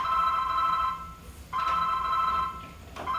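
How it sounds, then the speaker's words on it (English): A telephone rings near at hand with a bright, steady electronic trill in two long bursts separated by a short pause, and a third ring beginning at the end. "You hear that ringing? That's the bat phone."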